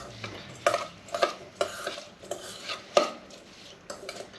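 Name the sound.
stirring pico de gallo with lime juice and cilantro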